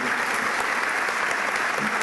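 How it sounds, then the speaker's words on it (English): Audience applause at a high school early college academy graduation ceremony, a continuous even roar of many people clapping in a large hall, steady and moderately loud. "We can give them a big round of applause, too."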